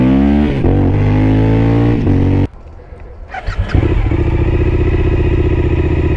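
Engine of a 2014 Suzuki V-Strom 1000 motorcycle, first running in a low rumble, cutting out briefly, then cranking and catching again into a strong, steady idle, loud and close.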